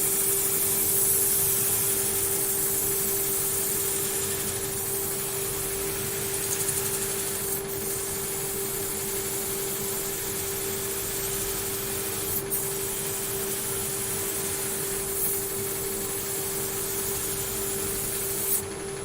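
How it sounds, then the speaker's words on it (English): An electric sander working a glue and sawdust mix, a constant whirring hum with a steady tone, close and unbroken for the whole stretch. "Get ready with me sander and straight in."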